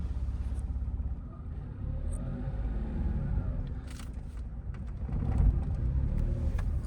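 A car pulls away with light acceleration at full steering lock during a beginner driving lesson U-turn: a low, steady engine rumble that swells slightly, close and continuous, with no speech.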